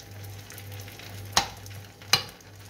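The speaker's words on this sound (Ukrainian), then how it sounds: "І тепер буду смажити я на середньому вогні з обох сторін до красиво-золотистого кольору" Potato pancakes frying in oil over medium heat, a steady soft sizzle with a low hum beneath, broken by two sharp clicks about a second apart.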